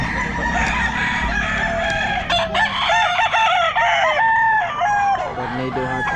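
A gamecock bullstag crows loudly and close by at the Santa Maria pet market, with repeated crowing calls and clucks over a busy market background.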